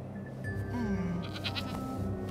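Goats in an animated cartoon give a short wavering bleat over a steady background hum, with no talk.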